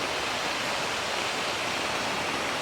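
Kanumantad Falls, a hidden waterfall, pours in a steady, dense roar of rushing water that holds unbroken and fairly loud throughout, with no voices.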